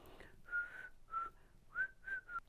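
Short, breathy whistled notes come in uneven bursts with gaps between them, like someone trying to whistle and only partly succeeding, close by.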